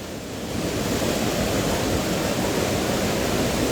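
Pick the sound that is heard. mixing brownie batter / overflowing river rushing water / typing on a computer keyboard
overflowing river rushing water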